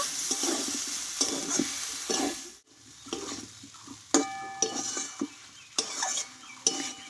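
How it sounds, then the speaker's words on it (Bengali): Young jackfruit and potato sautéed with a sprinkle of gram flour in a pan: a continuous frying sizzle with repeated scraping and stirring strokes, and a few sharp metallic clinks of a spatula against the pan near the end. "এক চামচ মতো বেসন নিয়েছি আমি ওপর দিয়ে এইভাবে ছড়িয়ে দেবো দিয়ে আবারও কিছুক্ষণ আগে ভালোভাবে কষিয়ে নেব"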